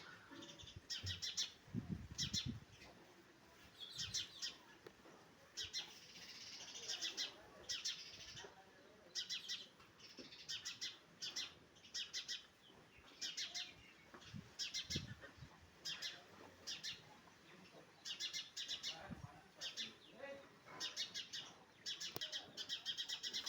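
Many house sparrows chirp in quick, repeated bursts throughout, a busy twittering chorus at moderate distance with faint background noise.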